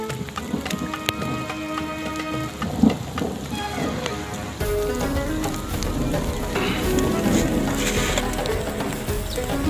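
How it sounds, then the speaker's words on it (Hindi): Steady rain patters and hisses on surfaces, growing denser and louder partway through, with scattered drips and light clatter mixed in. "बारिश बहुत ज़्यादा तेज़ होने लगी है"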